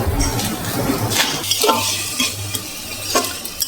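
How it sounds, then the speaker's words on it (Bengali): Meat stir-fried in a pan with already-fried spices, a continuous sizzle broken by repeated scraping and clinking strokes of a spoon against the pan, close and fairly loud with no talking. "আমাদের মশলাটা ভাজা হয়ে গেছে, এবারে মাংস দিয়ে দিলাম, এবার আস্তে আস্তে কষে নেবো।"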